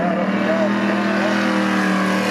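A race car roaring hard down the straight of a dirt short track in a DC race, a loud, steady engine drone with rising pitch under commentary.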